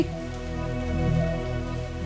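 Rain falls steadily in a soft, even patter that holds for the whole stretch, with a faint tonal hum running underneath and no voices.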